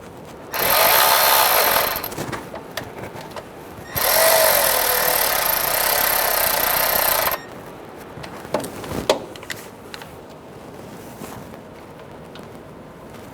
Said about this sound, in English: Install the new tensioner. Get the bolts started.